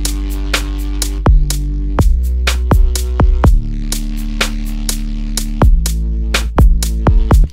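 Acoustic guitar chord riff passed through Granulator 2, sharp plucked attacks recurring in an uneven rhythm over sustained ringing chords, loud and close with no voices.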